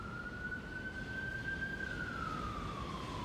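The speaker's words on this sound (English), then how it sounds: "And there's the ambulance." A distant ambulance siren passing, one long wail that rises slightly in pitch and then drops away, faint under a constant wash of background noise.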